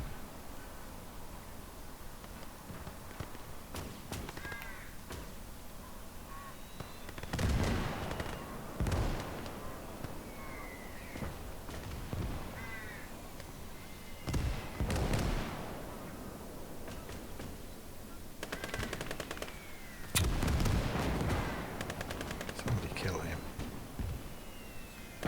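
Mortar fire in the Gates of Hell strategy game during the Battle of Smolensk, several separate booming impacts spaced seconds apart over a quiet battlefield hum, with occasional soft talk between them.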